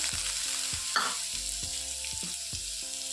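Shredded cabbage frying in oil in a home kitchen, a soft steady sizzle behind a repeating low mechanical hum, one brief scrape partway through.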